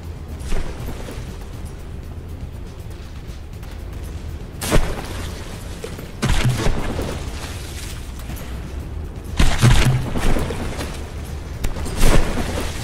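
Naval gunfire in the From The Depths battleship game, heard as several sharp blasts scattered among bursts of clustered booms over a steady low rumble. The shots vary in loudness and no one speaks.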